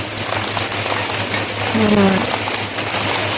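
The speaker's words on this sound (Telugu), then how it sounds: "వర్షం పడుతుందండి ఇప్పుడు" Rain falls steadily outdoors over potted marigold plants, a dense even patter throughout, with a voice speaking briefly in the middle.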